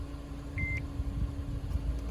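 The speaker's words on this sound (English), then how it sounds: "And we get a beep." A single short electronic beep chirps once from a 2018 Mazda 3 dashboard during a tire pressure monitor reset, over the low, steady hum of the car's idling engine nearby.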